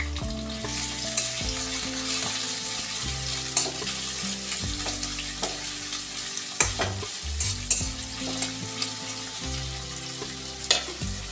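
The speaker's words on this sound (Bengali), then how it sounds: "তো তেলটা গরম হয়ে গেছে, এবার একটু পেঁয়াজটা দিয়ে দেবো" Chopped onion and a whole head of garlic fry in hot oil in a home kitchen, producing a loud continuous sizzle with scraping stirs and small crackles, close and without talking.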